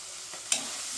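Tomato frying with ginger garlic paste in a pan makes a steady close sizzle, with one sharp stirring scrape or pop about halfway through; no voices.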